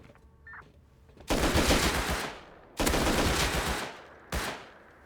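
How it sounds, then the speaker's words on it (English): Rifle gunfire in the survival game Rust rips out in three loud automatic bursts, two long sustained volleys followed by a shorter one, with no talking. "Wasted nearly a whole magazine on that guy"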